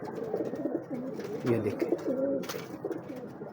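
Big breeder pigeons coo in repeated low, throaty rolling calls close by, while someone speaks briefly over them.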